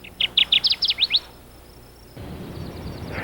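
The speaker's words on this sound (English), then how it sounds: "the male Kirtland's warbler establishes a territory and attracts females by singing" Male Kirtland's warbler song: a quick run of about eight bright, rising chirped notes, close and clear, followed by quiet and then a faint, more distant series of notes over soft outdoor background noise.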